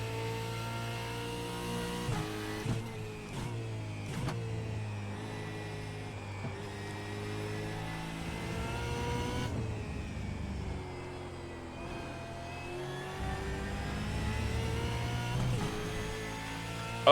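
Supercar race car at the Red Bull Ring in iRacing, engine revving and droning under throttle with rising and falling harmonic tones, steady and moderately loud for the whole stretch, no talking.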